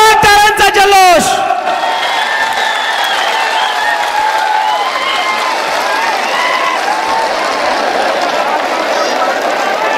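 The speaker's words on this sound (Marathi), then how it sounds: "एकदा जोरदार टाळ्यांचा जल्लोष" A large crowd at an outdoor political rally in Beed roars and claps in a continuous wash of cheering, following a brief burst of amplified voice at the start.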